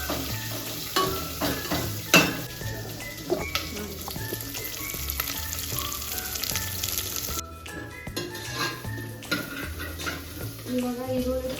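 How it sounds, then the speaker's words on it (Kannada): Onions frying in a pan until golden for vegetable pulao, with a continuous sizzle beneath frequent stirring scrapes and metallic spoon clanks, close up and with no talking. "ಈರುಳ್ಳಿ ಚೆನ್ನಾಗಿ ಗೋಲ್ಡ್ ಕಲರ್ ಬರೋವರೆಗೂ ಫ್ರೈ ಮಾಡ್ಕೊಳ್ಬೇಕು"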